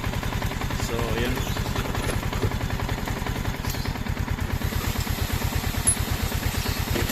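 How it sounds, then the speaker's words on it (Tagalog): A Yamaha Sniper FI 150 motorcycle idles with its radiator fan running, giving a steady, close, rapid engine pulse with a fan whir that holds throughout. "nagmi-minor pala yung ating andar ng makina kapag umaandar ang fan"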